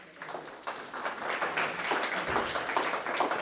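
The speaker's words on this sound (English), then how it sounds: "Let's give Jada another round of applause." An audience at a keynote event gives a sustained round of applause, dense steady clapping filling the room at moderate level throughout.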